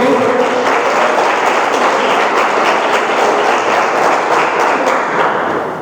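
A church congregation applauds loudly and steadily, a dense wash of many hands clapping that holds for several seconds before easing slightly at the end.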